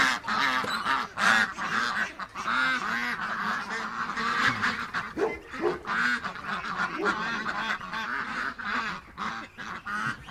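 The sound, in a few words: ducks rushing and quacking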